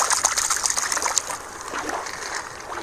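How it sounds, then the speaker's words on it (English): A toy squid is dropped back into a tub of water, giving a continuous close trickling and splashing as the water is stirred, with no voices over it. "Let's put the squid back in the water."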